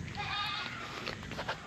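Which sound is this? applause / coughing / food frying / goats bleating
goats bleating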